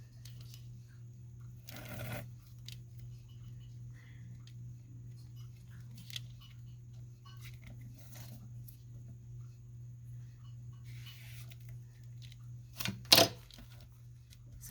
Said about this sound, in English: Sorry for that loud noise, my scissors.